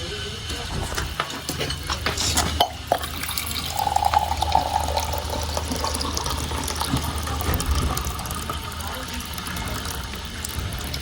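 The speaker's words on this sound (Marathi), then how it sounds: "आता पाणी पिणी पिऊन घेतो एकदा" Cold drinking water from a barrel pours steadily and close by, a continuous rushing splash lasting throughout with a faint voice in the background.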